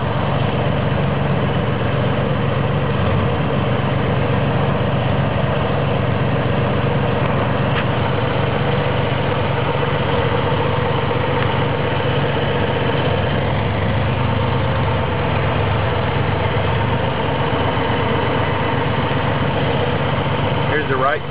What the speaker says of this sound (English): Idling about 900 RPM.